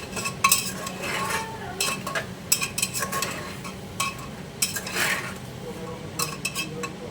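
Aloo matar curry being stirred in a pan with a spoon, with scraping and clinking strokes repeating steadily alongside a light sizzle, close up and with nobody talking.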